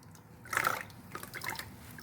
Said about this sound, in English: I just create a soapy foam in the water